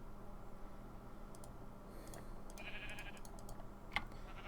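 A sheep with big horns bleats in the TerraFirmaCraft+ Minecraft mod, a short nasal bleat midway over a steady game background hum, with faint clicking around it.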